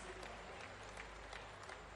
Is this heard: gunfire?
no